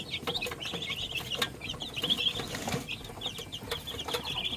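Red Island Red chicks cheep and peep continuously in a cramped brooder, a busy high-pitched chorus with faint scratching and shuffling underneath, moderately quiet and without talk.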